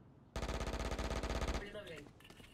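Rapid sustained automatic gunfire from the video game Valorant, a loud burst of about a second and a half of evenly spaced shots, followed by fainter game sounds.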